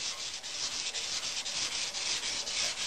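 Close, steady scuffing of a painted metal gas tank on a 2006 Harley-Davidson Dyna Wide Glide before painting, with quick back-and-forth abrasive strokes in an even rhythm and no talking.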